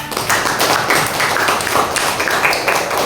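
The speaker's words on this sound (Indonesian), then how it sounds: "tepuk tangan buat Mas Guna" Elementary schoolchildren in a classroom clap for a classmate, a loud, close, dense burst of many small hands clapping with a loose rhythmic pulse, continuous for the whole stretch with no talk.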